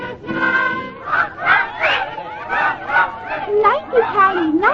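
A crowd of banquet guests cheers and shouts in an old 1937 radio drama adaptation of Alice Through the Looking Glass, bursts of voices rising and falling together in rough, lively waves, close and loud.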